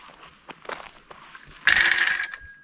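A few soft taps and shuffles, then a bicycle bell rings once, bright and close, its tone lingering to the end.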